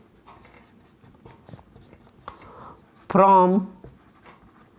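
Handwriting with a pen on paper, faint scratchy strokes close by, heard alongside a person's speech.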